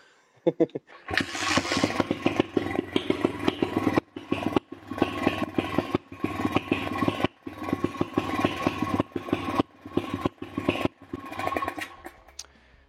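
A quad's engine runs with the choke on after clutch and carburetor work. It idles nearby in a rough, uneven rhythm, with repeated brief dropouts and sharp popping bursts.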